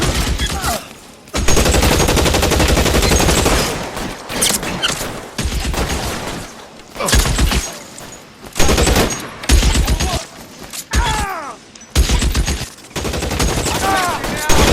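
Loud bursts of gunfire ring out in the L.A. Noire video game during an arson case, with rapid volleys and single shots in repeated clusters separated by short gaps, mixed with game voices shouting.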